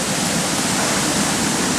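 Water pours down a backyard waterfall in a constant, full hiss and rush, close and loud, steady throughout with no talking.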